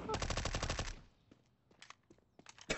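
Rapid automatic gunfire from a video game fires in a loud close burst, then stops. Scattered fainter shots and clicks follow in sparse, irregular bursts.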